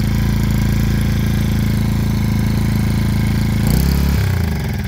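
A portable generator engine runs loud and close in a steady, buzzing idle for about four seconds before it is shut off and winds down abruptly.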